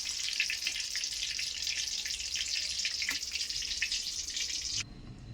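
Chicken pakodi and curry leaves frying in hot oil give a steady, dense sizzle that crackles continuously at close range, then cuts off abruptly near the end, leaving only a faint low background hum.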